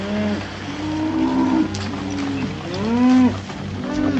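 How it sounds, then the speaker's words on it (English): A herd of cattle moos repeatedly in a Wild West cattle-driving scene, several overlapping drawn-out low calls rising and falling over a steady background rumble. "Keep the cattle moving."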